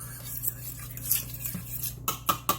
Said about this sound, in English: We're just going to stir it around.